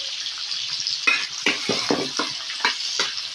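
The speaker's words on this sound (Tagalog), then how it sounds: "Nagisa po muna tayo ng bawang, sibuyas, luya, kamatis, at may konting sahog na pork." Garlic, onion, ginger, tomato and pork sauté for Ilocano pinakbet, giving a bright hiss of frying broken by several sharp scraping stirs of a spatula against the pan, close and fairly loud, with no talking.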